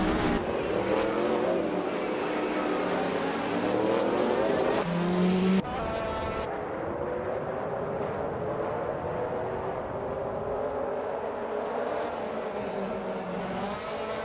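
Race cars in a video game race scream past in a dense, continuous engine whine, with gear shifts and a sudden change in tone midway as the field passes, loud and without talk.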